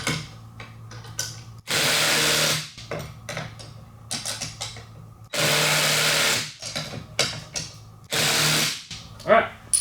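Bolts tightened on a Kindling Cracker XL firewood splitter assembly with a power tool: three loud, roughly one-second whirring bursts, separated by quieter clicks and handling noise, with a voice talking in the gaps.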